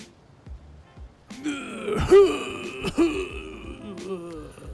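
Voice-acted death sound for a game character, a stranger, made by a human voice: strained groaning gasps with throaty catches, rising to two sharp choked peaks and then trailing off, close and fairly loud.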